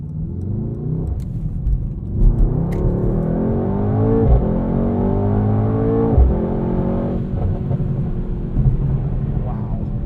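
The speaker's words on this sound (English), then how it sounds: "Because of the really aggressive Michelin tires on here, there's a little bit of road noise." A steady low rumble of tyre and road noise from aggressive Michelin tyres fills the cabin of a 2020 Mercedes-AMG GT 63 S, with the engine droning and shifting in pitch, a voice talking over it.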